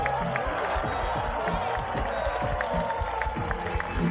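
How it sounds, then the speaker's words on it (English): Audience at a seal show at Sea World on the Gold Coast applauding and cheering in a steady, dense wash of clapping, with crowd voices mixed throughout. "join me in keeping that round of applause going for the incredible animals you met today"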